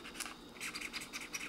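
A metal scraper scratching across the surface of a plastic stamping plate, giving a quick series of close, faint, rough scratchy strokes.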